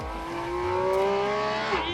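A Porsche 718 GT4 RS driven hard on a track, its high-revving engine note climbing steadily and close by, a brief strained peak near the end, with no talk over it.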